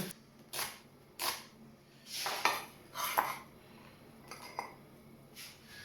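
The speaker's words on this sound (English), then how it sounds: "very quickly just dice half of an onion" A knife dices half an onion on a cutting board in a series of irregular, close-up strikes and clinks, some taps quicker than others, with no voices.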